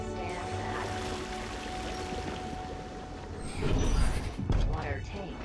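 In the video game Beyond a Steel Sky, a cleaning robot's spray nozzle lets out a steady, hissing rush of water. It is close and continuous and swells louder near the end.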